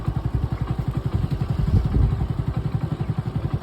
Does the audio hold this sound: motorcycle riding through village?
yes